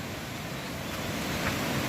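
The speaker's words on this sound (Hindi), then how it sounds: "बहुत ही सुंदर झरना" A mountain waterfall in Uttarakhand rushes with a constant, close, broadband roar that holds steady without pause, with no one speaking.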